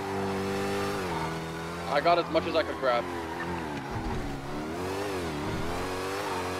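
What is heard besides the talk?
car engine revving, from a video game (GTA NoPixel)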